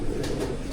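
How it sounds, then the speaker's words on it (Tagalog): Racing pigeons coo softly at their loft in a brief, low, murmuring burst, close and without talking. "So yan yung mga kalapate natin."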